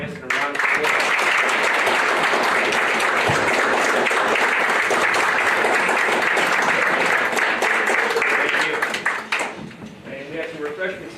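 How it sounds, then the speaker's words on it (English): At a town select board meeting, the audience claps in a sustained, loud round of applause honouring the chief of police. It holds steady for about nine seconds before tapering into scattered claps and murmuring voices. "Please join us in a round of applause"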